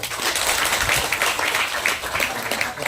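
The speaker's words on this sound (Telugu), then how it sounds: "చప్పట్లు కూడా" Audience applause welcoming a guest at a charity event distributing clothes to 200 people, a dense steady wash of many hands clapping, loud and continuous throughout.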